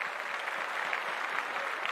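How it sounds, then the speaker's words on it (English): An awards show audience applauds, a dense, even patter of many hands clapping at steady loudness throughout. "give a virtual round of applause for our sponsors this evening."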